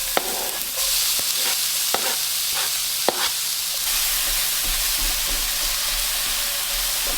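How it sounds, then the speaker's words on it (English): Chopped onion sizzles in oil in a pan over medium heat, a steady loud frying hiss with a few sharp clicks of stirring near the start and no talking. "We're going to add the onion."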